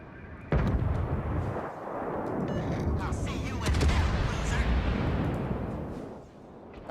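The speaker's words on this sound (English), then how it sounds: "So we're taking our final shots at the Cleveland here" Heavy naval gunfire from a warship battle game, aimed at the cruiser Cleveland: a loud, sustained rumbling barrage with booming blasts and rolling explosions throughout, starting abruptly and continuing without a break.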